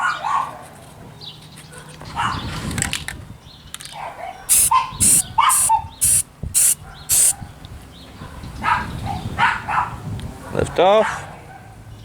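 A dog barks in a quick series of sharp, loud barks near the middle, with some whimpering yips, mixed among a person talking close by and other handling noises.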